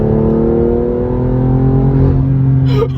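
A BMW M2 CS with a loud exhaust, driven without a tune, gives a strong close rev whose pitch rises and falls, ending in a quick crackling pop, heard from inside an underground garage.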